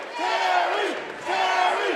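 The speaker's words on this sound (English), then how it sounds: "Listen to this crowd." A boxing crowd in Pomona roars in two loud swelling waves of cheering and yelling at a fight night, close and continuous.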